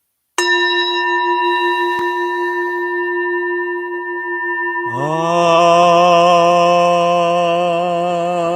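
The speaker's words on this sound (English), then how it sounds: "Taking an inhale when you hear the bowl and the bell ring." During an evening meditation, a singing bowl is struck once and rings with a long, clear, sustained hum. A few seconds later a bell sounds, its bright, shimmering tone layering over the fading bowl.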